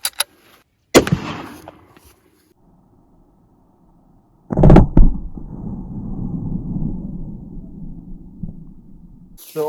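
A .375 Holland & Holland rifle firing a PMP Super Magnum solid brass point round: a sharp, loud report near one second, then a second heavy blast with a rumbling tail that fades into low background noise.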